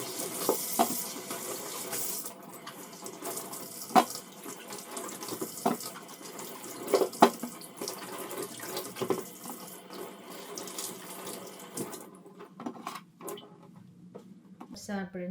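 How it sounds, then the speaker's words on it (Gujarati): Chillies being washed under a running kitchen tap, water splashing steadily into a sink with hands rubbing and clattering the peppers, the flow cutting off near the end as someone talks over it. "મરચાંને ધોઈને રેડી કરી લઈએ."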